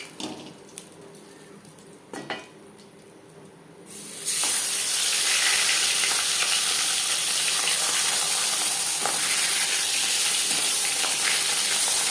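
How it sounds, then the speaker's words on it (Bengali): Fish frying in hot oil in a pan for a light fish curry: a few faint clicks and pops, then loud, steady, broadband sizzling that holds without a break, with no talking. "আপনারা চাইলে এর থেকেও কড়া করে ভাজতে পারেন"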